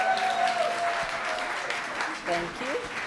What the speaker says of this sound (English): Please give her a round of applause as she makes her way up.